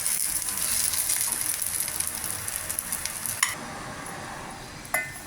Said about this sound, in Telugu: కొద్దిగా వేయించుకోవాలి ఉల్లిపాయ ముక్కలు కొబ్బరి ముక్కలు కూడా వేగాయి